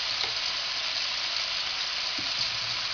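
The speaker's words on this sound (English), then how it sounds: "You hear them sizzling." Beef pieces and baby bok choy sizzle steadily in a hot pan, a loud, even hiss of frying that holds without a break, with no voices.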